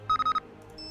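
A short electronic phone ringtone in the Nancy Drew game The Captive Curse, a quick run of four bright beeping tones followed by a faint higher tone, heard close and alone.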